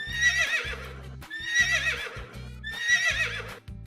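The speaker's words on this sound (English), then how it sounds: "Horse. Horse sound is nee." A horse neighs three times in succession, each a loud, close, shaky whinny with a trembling rise and fall, separated by short pauses and heard alone.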